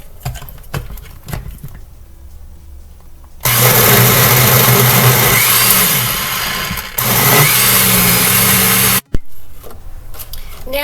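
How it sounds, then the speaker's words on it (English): A kitchen blender whirs loudly through a pineapple sherbet mixture of pineapple chunks and water, starting abruptly after quieter handling noises, briefly dipping, then cutting off before resuming. "And now we'll just blend it all up again."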